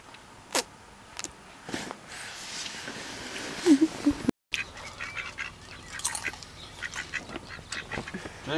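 Scattered duck quacks, some near and some farther off, over a busy outdoor background with brief bursts of other noise and a short dropout midway.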